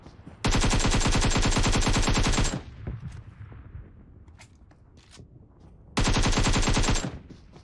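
Automatic AK rifle fire in the PUBG Mobile video game comes in two loud, close, sustained bursts, one about two seconds long and a shorter one later, separated by quieter in-game ambience.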